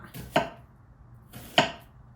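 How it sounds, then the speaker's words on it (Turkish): Two sharp knife chops on a cutting board as an onion is cut, about a second apart, in a quiet room. "Biz pişerken soğanı başlayalım doğramaya."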